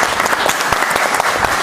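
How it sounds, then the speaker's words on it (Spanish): Guests at an outdoor carne asada gathering give a round of applause, loud close-up clapping with distinct sharp individual claps from a small group, steady across the short burst. "Fuerte el aplauso."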